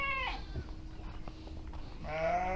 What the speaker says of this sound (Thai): สามสี นี้เป็น แกะตัวแรกครับจะขี้อ้อนมา